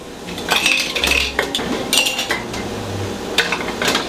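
Glass jars of beetroot are set down into a pot of hot water, giving a series of sharp clinks and knocks of glass against metal in quick, irregular succession.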